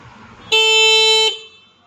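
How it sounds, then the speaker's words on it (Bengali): A battery-operated electric scooter horn gives one loud, steady, bright beep lasting under a second, clear and close with nothing else over it. "হর্নের সাউন্ডও যথেষ্ট জোরালো"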